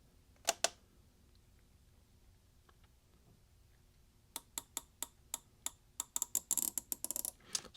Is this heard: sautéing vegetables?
no